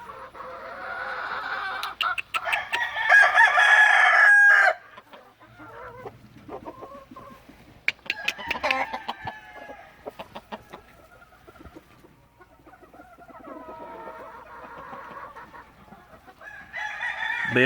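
Gamefowl roosters on a breeding farm crow loudly in one long call early on, with softer clucks and further crows scattered afterward, near and fairly clear over a quiet background.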